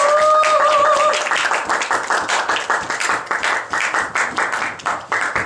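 A small audience at a leadership school discussion forum claps to welcome a speaker, brisk uneven hand claps that start fuller and thin out toward the end, with a brief tonal sound at the start.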